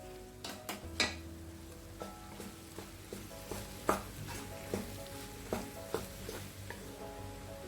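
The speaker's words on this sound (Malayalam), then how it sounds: "ഇതിലേക്ക് റൈസ് നമുക്ക് കുറേശ്ശെ ചേർത്തിട്ട് മിക്സ് ചെയ്തെടുക്കാം" A spatula scrapes and taps repeatedly in a hot pan as cooked rice is stirred into chicken fried rice with spring onion, a faint sizzle running under the irregular clatter.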